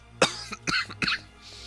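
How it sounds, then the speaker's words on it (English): Several short, sharp coughs from a nearby person, three distinct bursts within about a second followed by a faint throat sound, with no talk. "I'm coughing a bit, too"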